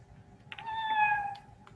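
A person imitates a cat with a single drawn-out meow, faint and alone over a quiet room.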